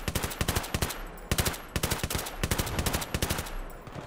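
Rapid bursts of M249 machine gun fire in a Battlefield 3 multiplayer match, loud and close, with short rattling strings of shots separated by brief pauses across the whole stretch.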